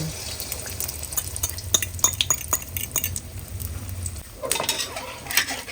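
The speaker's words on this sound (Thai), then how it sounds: "น้ำมันร้อนแล้วนำไข่ลงไปทอดเลยนะคะเจียวได้เลย" Beaten egg for a crispy Thai basil omelette dropped into hot oil in a pan over a high gas flame, with sizzling, clinks of utensils and bubbling spread through the clip, moderately loud and close, with a bright burst of frying near the end.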